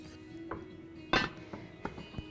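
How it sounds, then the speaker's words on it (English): A lid going onto a pot of hot lemon pie filling makes a few light metallic clinks, with one sharper, louder clank in the middle, close and otherwise quiet. "Putting the lid on it just keeps it hot until the meringue is ready"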